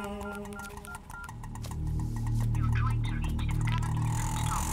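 Telephone dialing tones beep in a quick series of short keypad presses, then give way to a steady hum and static on the line, heard alone without talk.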